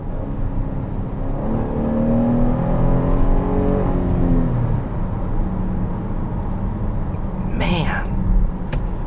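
A 2019 GMC Acadia Denali engine accelerates from inside the cabin, its tone rising through a gear before easing to a steady cruising hum.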